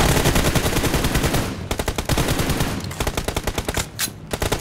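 Automatic gunfire in PUBG Mobile, long rapid bursts of loud, evenly spaced shots, close and forceful, with a brief pause and a few separate cracks near the end, no voices.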